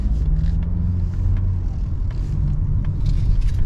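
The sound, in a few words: Mazda CX-50 turbo engine accelerating onto highway in sport mode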